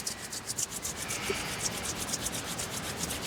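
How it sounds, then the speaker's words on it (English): Two palms rub together vigorously, producing a steady, close, dry swishing friction with quick repeated strokes and no talking. "So rubbing your hands for 5 seconds here, and maybe getting a little more vigorous."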